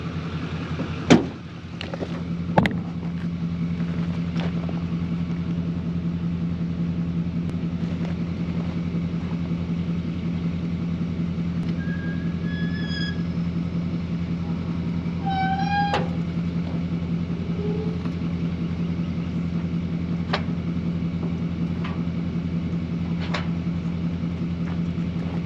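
A dump truck engine idles steadily in a video game, a constant low rumble running throughout with a few sharp clicks and soft control beeps over it, no talking.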